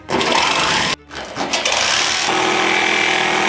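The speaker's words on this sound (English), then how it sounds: "Holes drilled, now time for the jigsaw" Loud, continuous buzzing of a jigsaw cutting a sheet for a bike rack in a campervan, with a brief pause near the start before the motor resumes steadily.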